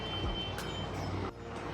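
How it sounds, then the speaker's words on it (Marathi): A mixer grinder blends soaked chickpeas with a little water into a paste, giving a steady, loud, whirring motor drone that drops slightly in level near the end, with no one talking. "हे छोले आता मिक्सरला बारीक करून घेऊ"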